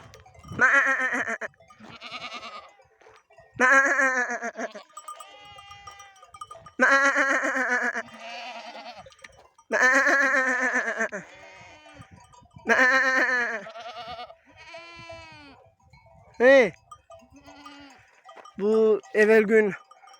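Sheep and lambs bleat repeatedly on a mountainside, loud nearby calls in separate bursts with short pauses, some higher-pitched, with a faint cowbell clink in the background.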